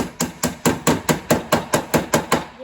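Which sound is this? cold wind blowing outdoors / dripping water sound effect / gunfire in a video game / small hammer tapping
small hammer tapping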